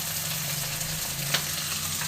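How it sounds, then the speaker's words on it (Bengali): Fish frying in oil in a wok, a steady close sizzle that holds throughout without pause, with one faint clink near the end. "আর দেখো কড়াইতে মাছ ভাজা হচ্ছে"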